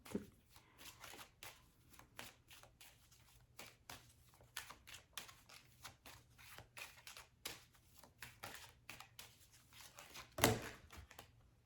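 Cards shuffle and slide from a deck during an angel number card draw, a quiet rapid series of papery flicks and riffles with a sharper snap near the end.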